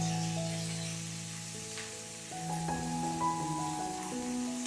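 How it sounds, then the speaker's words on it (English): Shrimp and celery sizzle quietly in a stir fry with a soft crackle, while steady tonal music plays over the frying throughout. "Stir fry for about 2 minutes until the celery becomes translucent like so."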